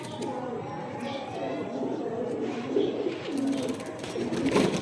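Pigeons coo softly in a home loft, low murmuring calls repeating close by under steady background noise, with people talking nearby.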